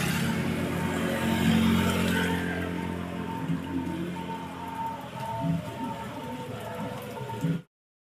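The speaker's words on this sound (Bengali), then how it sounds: "ভালোই জোরে বৃষ্টি হচ্ছে, মানে একটু সময় বন্ধ হচ্ছে না" Heavy rain pours down steadily on a waterlogged roadside area, a dense continuous hiss of drops on surfaces that cuts off abruptly near the end.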